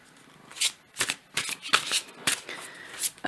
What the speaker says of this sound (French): je vais replacer un peu mes cartes